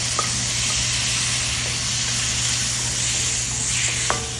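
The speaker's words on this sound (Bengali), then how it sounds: "আমি 2-3 সেকেন্ড চিংড়ি মাছগুলিকে ভেজে নেব" Prawns fry in a little oil in a pan with pumpkin, producing a steady close sizzle, a low hum underneath, and a couple of faint utensil clicks near the end.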